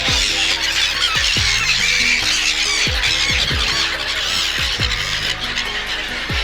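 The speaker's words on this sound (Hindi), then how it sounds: "जब आप वॉकवे पे चल रहे होंगे ना, सिग्वल्स की आवाज़ आपको रोमांचित कर देगी भाई।" Seagulls by the Arabian Sea at Dwarka, many loud squawking calls repeating in quick succession over a steady roar of wind and surf, close and dense throughout.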